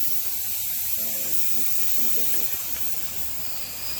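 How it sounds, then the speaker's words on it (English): WD-40 lubricant sprays in a steady hiss from an aerosol can during at-home tire work on a 280ZX, close and continuous for several seconds, with faint voices underneath. "Just spray a little WD-40, right?"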